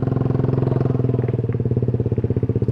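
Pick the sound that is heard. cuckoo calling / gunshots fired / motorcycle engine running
motorcycle engine running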